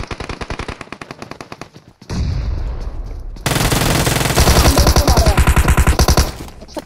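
Rapid automatic gunfire in the battle-royale shooter PUBG Mobile, loud and close: sustained machine-gun bursts with dense repeated cracks, a brief pause, then heavier continuous volleys.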